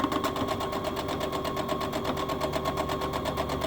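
A sewing machine runs a straight stitch around a welder cap, a fast, even mechanical rattle held steady and close the whole time.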